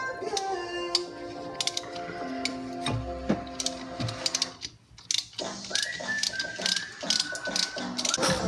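A ratchet clicks in quick bursts as bolts are worked loose on a Toyota Supra during a big-turbo build, the clicks close and crisp, with mechanical clatter between them and brief quiet pauses.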